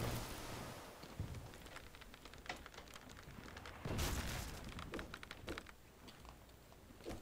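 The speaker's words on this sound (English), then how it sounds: "Who is shooting us?" Gunfire during a pirate ship battle in the video game Blazing Sails: crackling volleys of shots and heavier booming blasts, some close and some distant, over a continuous rushing sea-and-wind wash.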